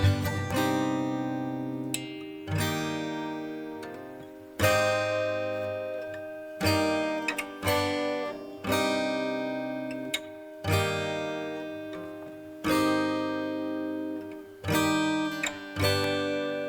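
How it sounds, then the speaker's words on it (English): Guitar strums ring out and are held long, about a dozen chords spaced a second or two apart, each fading before the next, in a country rap beat with no voices. "I wanted a part where it's just me holding out the strums longer"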